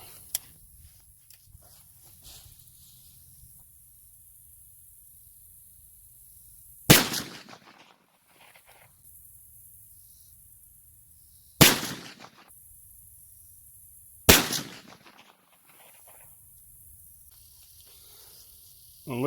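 Revolver shots ring out at a target range, three sharp, loud single cracks spaced several seconds apart, each with a short decay, between quiet stretches of faint handling noise.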